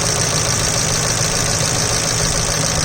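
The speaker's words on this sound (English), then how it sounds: "This is the sound of the injectors." LPG fuel injectors ticking on a 2002 Mercury Grand Marquis engine at idle, a steady, dense mechanical clatter close to the engine bay, continuous and loud throughout with no voices.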